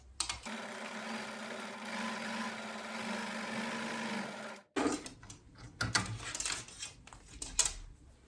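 A sewing machine stitches tucks into fabric with a steady, close whir for several seconds, then stops abruptly, followed by lighter clatter and handling noises.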